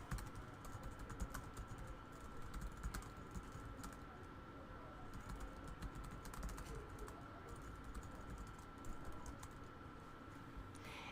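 A message being typed on a computer keyboard, a steady, fast patter of soft key clicks close by over a low background hum, with no talking.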